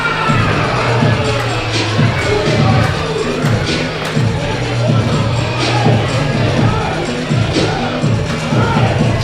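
A wrestling crowd cheers and shouts while t-shirts are tossed into the stands at a live event, a dense continuous roar with excited voices swelling and dipping.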